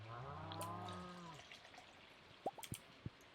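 Cows in the Stardew Valley video game give a long, close, low moo, followed by a few light dripping plops in a quiet setting.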